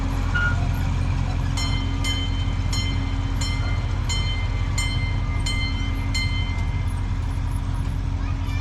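A train rumbles steadily past in Bowness Park, Calgary, with a constant low drone, while faint clanks and beeps sound at intervals over the noise.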